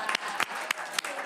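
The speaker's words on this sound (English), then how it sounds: "So if everyone can give a round of applause to Delegate Vaughn Stewart." Committee members at a legislative session clap sparsely, a handful of separate claps spread across a moment, fairly close and not loud.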